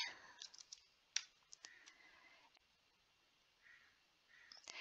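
Quiet computer mouse clicks, a handful of crisp, close taps spaced irregularly over a near-silent background, with a final click or two at the end.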